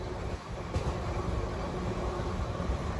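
A special train of ICF coaches hauled by a WAP-7 locomotive runs at cruising speed, a steady loud rumble and rattle of wheels on track with constant wind roar from start to finish.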